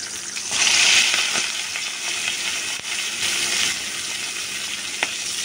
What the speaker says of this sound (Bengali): এখন মাথাটা ভাজতেছি ভালো করে।